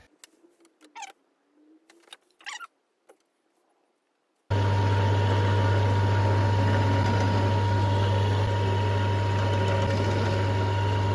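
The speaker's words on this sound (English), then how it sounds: "I'm just going to drill the hole for the pole to sit in." Power drill boring a hole in wood for a pole while building a rustic wall-mounted bar: a few soft knocks, then a loud steady motor whine that runs unbroken for about seven seconds.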